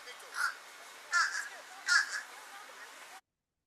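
Three short nasal fish crow calls, evenly spaced about a second apart, fairly faint against a quiet background.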